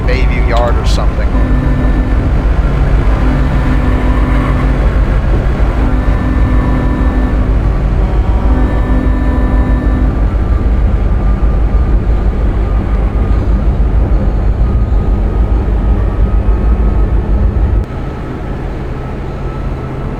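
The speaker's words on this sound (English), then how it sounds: "This almost sounds electric because that kind of spooling sound that you hear where the pitch gets higher the faster you go, that's a characteristic of electric trains." Electric-sounding train traction motors spool up in a train simulator game, a loud steady rumble with rising tonal whine segments repeating, before the sound drops near the end.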